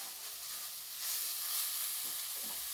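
Fish frying in oil in a pan for Bengali fish balls, a steady close sizzle and hiss that swells louder midway, with faint stirring scrapes and no talking.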